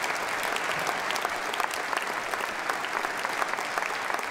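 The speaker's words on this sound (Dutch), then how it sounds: "Voor de dirigent ook een applaus." Sustained applause for the conductor at a Christmas concert, a thick continuous wash of many people clapping, evenly loud from start to finish, with no speech.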